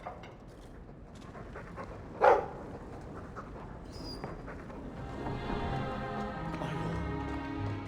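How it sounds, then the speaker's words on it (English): A dog in the video game Dragon Age II gives a single sharp bark partway through, followed later by softer whining, whimpering tones over a quiet ambient background. "That dog."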